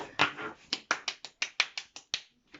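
Clapping for a child's drawing of a big flower, about a dozen sharp, close claps in a quick uneven rhythm, quiet room otherwise.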